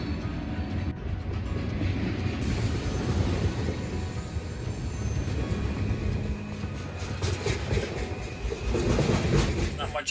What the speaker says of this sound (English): Not much I can do about the trains.